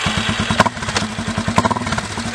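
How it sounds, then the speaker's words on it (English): A Raptor ATV engine runs on a test ride around a small field, chugging in a steady rapid low thump with small throttle swells and a couple of sharp clacks, loud and close. "now I'm going to do a little test ride around my little field here in the back, make sure that it takes throttle good"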